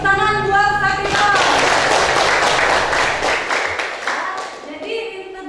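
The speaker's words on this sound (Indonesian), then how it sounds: "Tepuk tangan buat Satira" Group of people clapping for a classmate during a classroom teaching session, a dense burst of applause mixed with voices that fades near the end.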